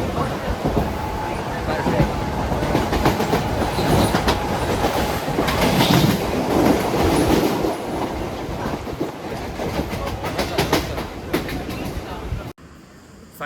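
A Mumbai local train runs toward Dombivli with a loud, continuous rattle and clatter of wheels on track for about twelve seconds, then the sound abruptly drops away.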